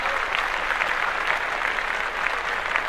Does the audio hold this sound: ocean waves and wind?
no